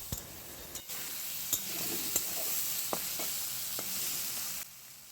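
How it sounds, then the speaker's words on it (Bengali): Potato, pointed gourd and long beans fry in hot oil with a steady hiss, broken by a few sharp clinks and stirring scrapes. "তেলের মধ্যে সবজিগুলো ভালো করে একটু নাড়াচাড়া করে নিয়েছি"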